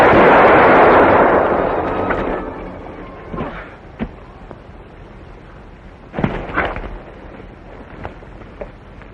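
Gunfire in a 1945 western film: one loud, booming shot opens and rolls away slowly, followed by a few sharper, fainter cracks spaced several seconds apart.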